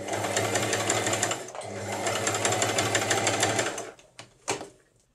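Domestic sewing machine stitching back over a zigzag seam on a fabric appliqué heart, a rapid steady mechanical chatter that pauses briefly, resumes, then stops, followed by a few soft clicks.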